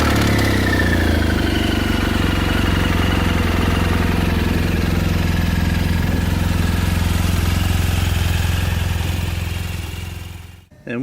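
A motorcycle engine idles while warming up, a steady, loud, close low rumble with an even throbbing pulse that holds throughout, then cuts off abruptly at the end.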